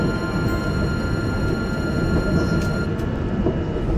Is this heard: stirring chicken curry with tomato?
no